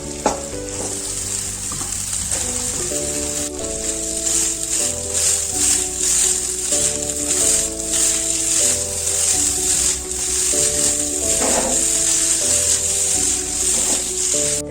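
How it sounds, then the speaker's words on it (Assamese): Boiled chicken chow mein noodles fry and sizzle in a hot pan while they are stirred, giving a loud, steady hiss with spatula scrapes throughout and music playing underneath. "আৰু মই বইল কৰি ৰখা চাওমিনখিনি এতিয়া দি দিম।"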